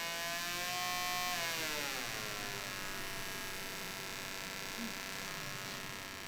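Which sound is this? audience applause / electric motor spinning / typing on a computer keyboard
electric motor spinning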